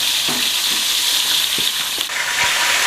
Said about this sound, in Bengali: এবার সব সবজি আমি ভেজে নিচ্ছি ভালো করে।